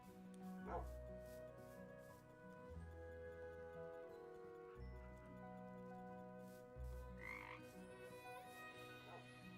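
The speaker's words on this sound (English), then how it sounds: "Oh, here's some dart frogs." Dart frogs croak in a Minecraft game world, low repeated croaks in a steady rhythm of about four calls, with a faint higher chirp, over quiet ambient game sound and no talking.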